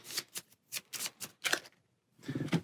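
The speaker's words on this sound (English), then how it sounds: "Get her spell cards, give it a shuffle." A deck of spell cards for a Dungeons & Dragons Ghosts of Saltmarsh board game being shuffled close up: quick riffling bursts in several short bouts, then a longer softer flutter after a brief pause, with no voices.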